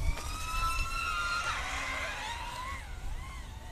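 Quadcopter with a ZMR 180 frame and 4-inch triblade props, its motors whining in steady high tones that rise and bend as the throttle changes, fairly close.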